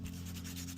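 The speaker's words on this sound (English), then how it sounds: "Take your time with the sanding." Steady rubbing of fine cloth-backed sandpaper over a tiny carved wooden spoon, a short even scratchy hiss over a low constant hum.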